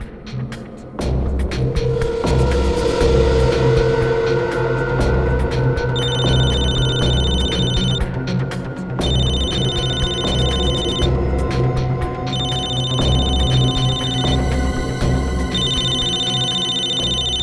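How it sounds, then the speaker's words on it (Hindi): Mobile phone ringing in a tense crime-drama scene, a repeating electronic ring tone in bursts over a loud, dramatic low background score. "दया इसके मोबाइल पे क्यों फोन कर रहा है?"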